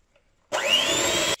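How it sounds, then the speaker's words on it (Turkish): An electric hand mixer switched on to beat cocoa cake batter gives a steady, loud, whirring buzz that begins abruptly after a quiet moment and runs evenly for about a second, with no voices. "sonra mikserimizi açarak"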